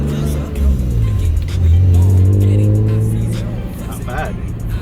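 A 1997 Toyota Soarer SC300 with a W58 five-speed manual and naturally aspirated 2JZ-GE pulls away under load, its engine note rising through a gear and then easing off, loud and close from inside the cabin while people talk.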